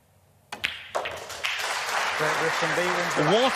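A crowd applauds a pool player at a World Cup of Pool match, clapping rising and swelling to a sustained, fairly close round while a commentator talks over it.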